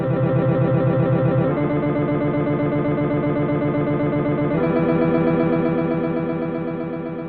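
Sonified salmon run of the historic Columbia River, before the river was altered: a dense, sustained wash of many layered synthetic notes forming a rich, loud chord that shifts in steps and fades slightly at the end, with no voices.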